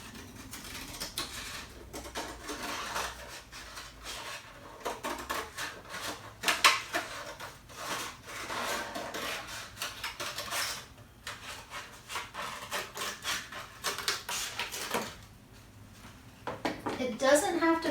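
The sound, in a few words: cutting a paper plate mask shape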